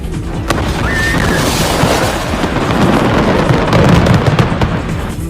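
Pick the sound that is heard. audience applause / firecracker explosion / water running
firecracker explosion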